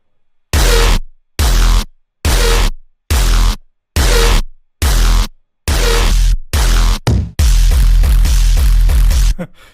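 Heavy distorted bass stabs pulse in a quick, regular rhythm, then merge into a sustained, noisy roar at the end.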